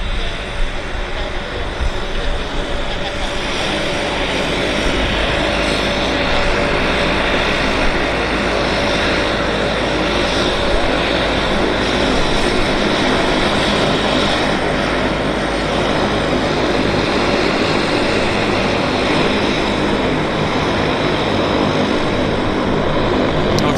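De Havilland Canada propeller aircraft engines at Vancouver International Airport drone steadily and loudly throughout, a continuous broadband roar with faint voices now and then.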